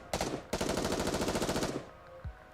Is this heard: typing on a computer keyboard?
no